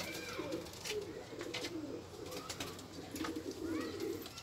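Yellow golden Baskacı pigeons coo in soft, rolling bursts, a steady low murmur from several birds close by with occasional brighter calls over it.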